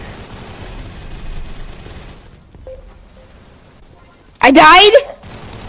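SMG fire in the shooter game Gun Raiders on the Yard map: a short, loud burst of rapid shots near the end, after a stretch of talking and quiet game sounds.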